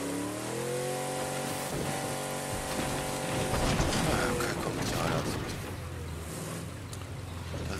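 Car driving in State of Decay 2, a continuous engine drone with rising and falling rev tones, rattling and creaking mechanical noise throughout, with a voice briefly talking underneath.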